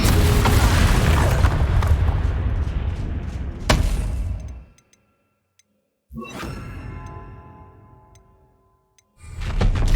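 Explosive booms from the Confringo fire spell in the video game Hogwarts Legacy, with heavy blasts and sharp cracks in bursts broken by short silent gaps, and no voices.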